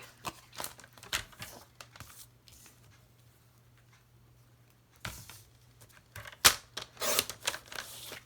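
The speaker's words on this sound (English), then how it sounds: "I can trim this down and save it for later." Paper being trimmed by hand while making a watercolor card: a scatter of short, crisp cutting and handling noises, with a couple of sharper snips and rustles near the end, close by and alone.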